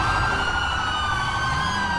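Police car sirens wail in GTA 5 roleplay, loud and continuous, with steady high rising-and-falling tones over a low rumble of traffic and engine noise.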